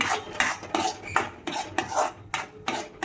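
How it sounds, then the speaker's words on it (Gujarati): Wheat sheera cooking with ghee is stirred in a pan: about eight quick, rhythmic scraping strokes of a spoon against the metal, close and fairly loud, with no voices. "હલાવતા રહેવાનું છે, એટલે ખાંડ બધી ઓગળી જાય."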